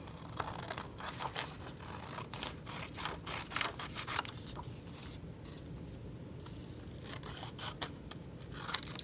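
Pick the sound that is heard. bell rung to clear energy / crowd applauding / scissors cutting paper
scissors cutting paper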